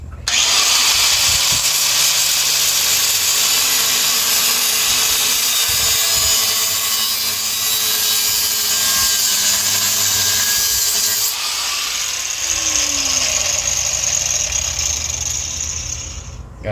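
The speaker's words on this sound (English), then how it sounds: "We're going to first cut the exhaust pipe off because it's easier." Angle grinder cutting through the exhaust pipe of an antique engine taken from an old tiller, a loud, continuous abrasive whine and rasp that holds steady, briefly dips, then carries on to the end.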